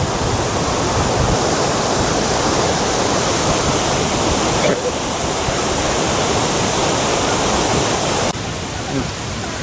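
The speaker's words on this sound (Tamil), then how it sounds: "அப்படியே தண்ணி எவ்வளோ வேகத்தில் வருது மட்டும் வரேன்" Heavy, continuous roar of the overflowing Thirparappu waterfall, a broad steady rush of falling water that fills the whole scene loudly and close, with no break or change in intensity throughout.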